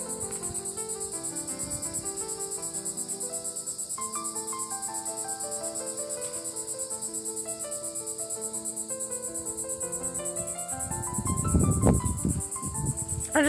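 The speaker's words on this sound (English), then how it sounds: "I'm trying to get close to the sound of the cicadas over here." Steady high-pitched cicada buzzing drones continuously from nearby trees, with a brief rustling burst near the end.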